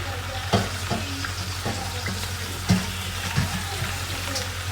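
Yogurt-marinated chicken frying in a pan, a continuous sizzle broken by several sharp spatula knocks and stirs at close range.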